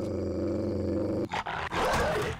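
A dog growls in the video game 7 Days to Die, a short rough snarl cutting in over a steady droning background hum, with a couple of brief bursts close and fairly loud.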